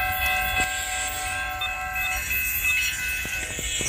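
A short Conrail freight train, 11N, passes at milepost 11.4 in Wyandotte, Michigan, with a loud rumble, wheel clatter and a horn blast, all close by and without speech.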